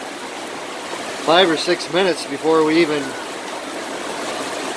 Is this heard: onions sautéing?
no